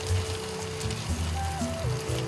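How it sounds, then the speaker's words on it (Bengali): Ginger-garlic paste fries in a pan for paneer darbari, making a soft, steady sizzle with faint crackles and a low background hum. "একটু ভেজে নেব যাতে আদা রসুনের কাঁচা গন্ধটা চলে যায়"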